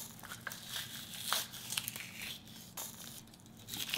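Squid intestines are pulled out during cleaning, making soft wet crinkling and tearing sounds that continue steadily at close range with no talking.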